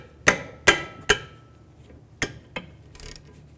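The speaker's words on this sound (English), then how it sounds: "Now I'm going to remove these two caliper bolts. Use a 14mm socket, or if you want to, you can use a wrench." A socket wrench loosens 14mm brake caliper bolts on a Chevrolet Equinox, giving a few sharp metallic clicks and knocks in an uneven rhythm, close and fairly quiet, with no talk.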